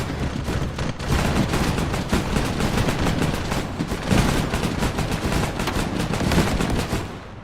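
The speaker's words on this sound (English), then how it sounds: "Man, these guns turn slow, but they do shoot fast." 40 mm guns firing fast in a Warhammer 40k video game, dense rapid booming bursts sustained and loud, with a slight lull partway and no talking.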